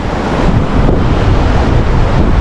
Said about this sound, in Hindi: ये रिवर और इसका पानी का शोर